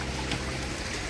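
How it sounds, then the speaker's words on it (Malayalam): Water flows steadily through a paddy field, a close, continuous rushing trickle heard alone for about a second. "വെള്ളം ഒഴുകുന്നുണ്ട് പാടം."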